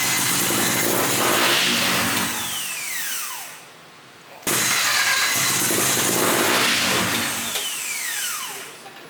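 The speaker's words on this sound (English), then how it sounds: "It's like right when it starts to get running, it just immediately turns off." A rotary-swapped Nissan S15 engine cranks, catches briefly with a rising whine, then cuts out, and the same sequence repeats twice, loud and close, with a short pause between tries.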